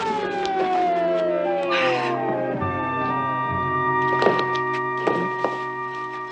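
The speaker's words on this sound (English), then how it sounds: "And there's the ambulance." An ambulance siren wails with falling and rising tones, sounding steadily, with a few dull thumps and knocks in between, fairly close.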